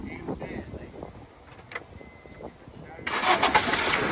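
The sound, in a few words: car engine cranking over with a dead battery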